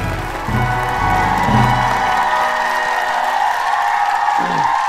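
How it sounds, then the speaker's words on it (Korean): A church congregation at a New Year blessing service in Gimpo applauds and cheers continuously, with a fanfare-like tone and shouting layered over the dense, steady clapping. "하나님께 박수로 영광 드리겠습니다."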